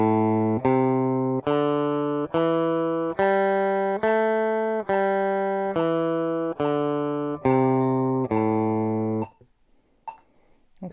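Guitar plays a grade 1 scale starting from the open A fifth string at full speed, with about ten evenly spaced, clearly sustained notes rising and falling, close and alone, followed by a brief pause with faint noise at the end.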